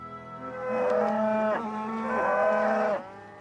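Cattle on a Scottish island farm give two long, loud, drawn-out moos in succession, each a rich harmonic bellow lasting over a second, close to the listener with no talking.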